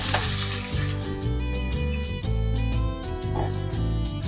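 Whole cumin seeds and ginger garlic paste sizzle steadily in a hot pan for a zucchini sabzi, a continuous close frying hiss under loud background music.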